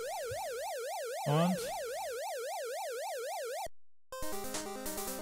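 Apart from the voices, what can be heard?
police siren in NES video game Motor City Patrol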